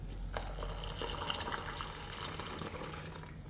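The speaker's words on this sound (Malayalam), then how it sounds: "ഇനി ഇതിലേക്ക് ഈ ശർക്കരപ്പാനി നല്ല ചൂട്ടോടെ തന്നെ ഒഴിച്ചു കൊടുക്കാം" Hot jaggery syrup is poured into batter for Kerala kalathappam, a steady close liquid splash and trickle that runs for a few seconds with faint low rumble beneath and no talk.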